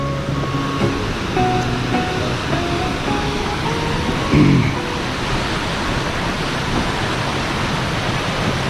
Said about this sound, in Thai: เราก็จะเห็นน้ำตก ไหลลงจาก หน้าผา